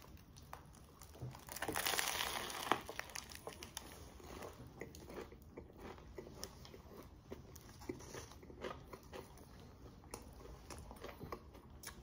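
Someone bites into a crusty baguette sandwich filled with layered pork chop and pickled radish. A louder crunchy bite comes near the start, followed by faint, close, intermittent chewing in an otherwise quiet setting.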